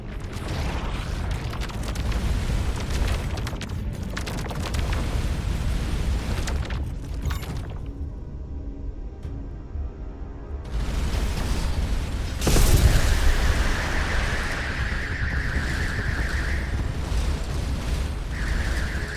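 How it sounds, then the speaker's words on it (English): Missiles striking a player's spaceship in the space game Starcom: Unknown Space, a run of deep booming blasts and bursts, fairly loud and continuous with a brief lull partway through and a sharp hit before the rumble resumes. "Shooting missiles at me, punk."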